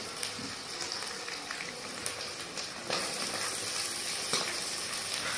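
Chopped onions drop into hot oil already frying chillies and curry leaves, giving a steady close crackling sizzle that swells slightly louder partway through, with no voices.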